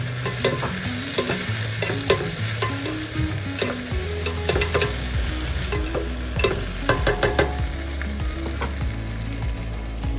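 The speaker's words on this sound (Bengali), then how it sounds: "পেঁয়াজ আদা রসুন ভাজা হচ্ছে একটু নেড়ে দিই" Onion, ginger and garlic fry in a hot pan with a constant loud sizzle, while a spoon scrapes and stirs in repeated bursts.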